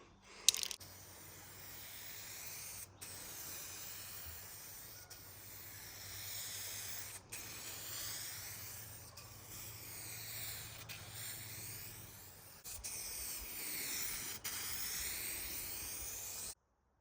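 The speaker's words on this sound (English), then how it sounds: "we're gonna spray this 2K clear from Spray Max" A SprayMax 2K clear coat aerosol can hisses in a series of sustained bursts with short pauses between them, close by and fairly quiet, as clear coat is applied to a Chevy Cruze part.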